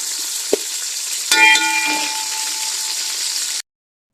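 Onions fry in oil toward golden brown with a close, even hiss, a sharp tap near the start, then a stir that briefly thickens the sizzle before it settles and cuts off abruptly.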